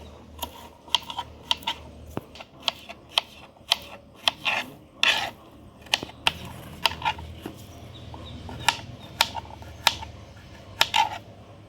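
Freshly harvested turmeric rhizomes are cut in a home garden, producing a steady series of sharp, close scraping and snipping strokes at a quick, fairly even rhythm over a faint background.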